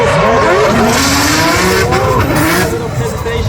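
A drift car slides through the technical section of the Riga track during Drift Masters qualifying, its tires squealing in long, loud, continuous wails with engine roar beneath, close and sustained throughout.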